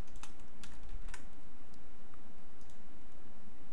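Fingers tap rapidly on a computer keyboard, a quick patter of close clicks with a few louder key strikes, no voices.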